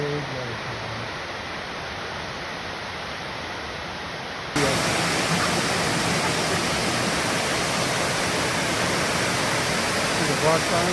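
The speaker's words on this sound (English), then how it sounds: "That's a big waterfall." A large waterfall roars as a steady broadband rush, growing louder partway through and staying dense and continuous to the end.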